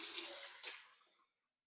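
A large stock pot is filled with cold water from a kitchen tap, a short hissing gush that quickly fades away, close and quiet, with no voices.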